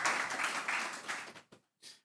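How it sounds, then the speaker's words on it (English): Audience applause in a room after a talk, a dense wash of clapping that thins out, then a couple of short bursts of claps trailing off near the end. "So give Hints a round of applause."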